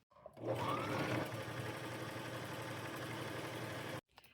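A sewing machine stitches a pinned seam on a sweatshirt while scarf sleeves are added, running as one steady, close mechanical whir for several seconds before stopping abruptly.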